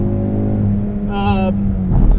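A Mountune Ford Focus RS drives on a smooth tarmac track, its engine a loud close droning hum that rises in pitch briefly. A voice speaks over the engine.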